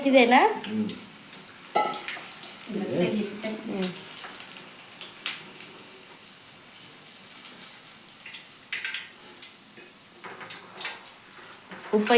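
Peanuts scrape and rattle as they are stirred in a hot oiled pan at home, a soft, steady sizzle broken by occasional clinks of a utensil against the metal, with voices speaking nearby.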